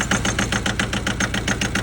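A John Deere 650 tractor's engine running close by at a steady idle, with an even, fast knocking pulse throughout.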